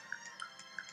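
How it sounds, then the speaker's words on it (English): A mobile phone ringing faintly, a short repeating electronic tone pattern in a quiet room. "Sorry about my phone going off."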